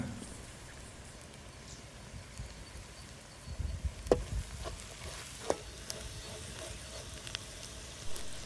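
Onion and masala sautéing in a pan for chicken ghee roast, a soft steady sizzle with scattered stirring clicks and scrapes of the spoon, close and fairly quiet.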